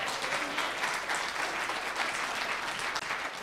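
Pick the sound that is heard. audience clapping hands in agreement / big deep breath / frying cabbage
audience clapping hands in agreement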